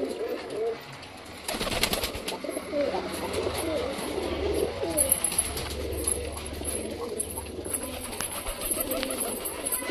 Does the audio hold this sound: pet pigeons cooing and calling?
yes